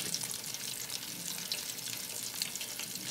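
Chicken waffle pieces coated in flour or cornstarch frying in hot grease, a steady close crackling hiss with dense popping throughout and no voices.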